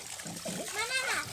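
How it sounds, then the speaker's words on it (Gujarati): Water poured and splashing onto children playing in a small home swimming pool, a brief watery splatter mixed with children's voices talking over it. "આને નાખો પાણી."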